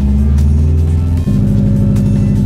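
A manual-transmission car engine revs loud and close as the gas pedal is pressed, a steady throbbing drone that shifts to a higher pulsing tone partway through, with no talk.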